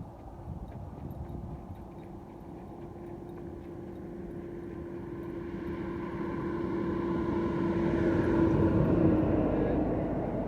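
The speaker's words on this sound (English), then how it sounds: "It was a giant oversized truck with a tractor." A giant oversized truck hauling a tractor passes along the road, its steady low engine drone swelling into a louder roar toward the end as it draws near, heard from the roadside while walking.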